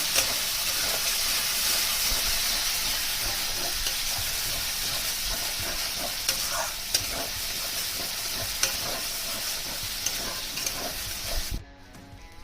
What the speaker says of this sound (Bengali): মশলা ভালো মতো কষানো হয়ে গেছে